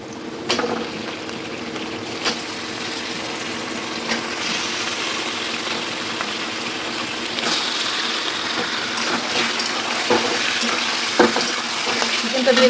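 Boneless and bone-in chicken drops into hot white oil with lightly fried chopped onions, giving a loud, close, steady sizzle broken by stirring scrapes and occasional clanks, with no talking.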